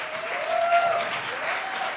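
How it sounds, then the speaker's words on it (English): Applause rises from the audience at a county executive swearing-in ceremony, a soft, steady patter of many hands heard from a distance, with faint tonal sounds over it. "Please give them a round of applause."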